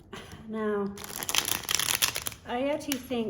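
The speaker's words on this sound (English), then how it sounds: "these are somewhat easier to shuffle." Rapid crisp riffling of thick cards being shuffled, with voices talking over parts of it.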